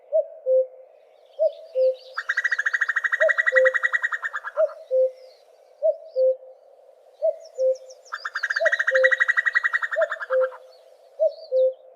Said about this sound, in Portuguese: quando ouvirem um cuco a cantar e depois ouvirem este trinado, já sabem que é a fêmea também que anda ali por perto